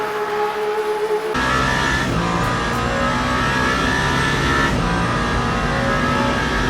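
A race car roars flat out down the Mulsanne Straight at the Circuit de la Sarthe in the Le Mans Ultimate racing game, its engine note loud and sustained at high revs, with a brief upshift partway through.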